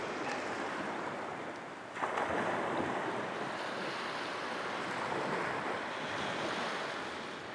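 Ocean waves wash onto a seashore in a continuous broadband surf roar, with a fresh swell surging in partway through. There are no voices, only the steady rush of water.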